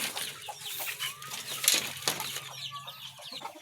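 Chickens on a farm clucking softly in short, scattered calls, fairly faint over a light outdoor background with no speech.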